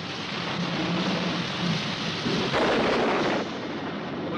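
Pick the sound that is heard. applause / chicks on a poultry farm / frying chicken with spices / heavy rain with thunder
heavy rain with thunder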